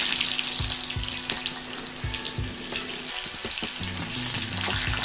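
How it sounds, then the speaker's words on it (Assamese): Thinly sliced onions are dropped into hot mustard oil and fry with a steady, close crackling sizzle, broken by irregular clatters and scrapes in the pan, with no one speaking. "এতিয়া আমি পাতলা পাতলাকৈ কাটি থোৱা পিঁয়াজখিনি গৰম তেলত দি দিছোঁ"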